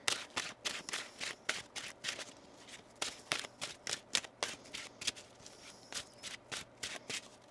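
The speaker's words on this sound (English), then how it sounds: "One more shuffle here." A deck of tarot cards is shuffled by hand in a quick series of crisp riffling bursts, about two or three per second, close and fairly quiet, with no voices.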